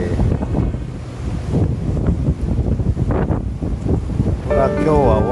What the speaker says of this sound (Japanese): 大波大風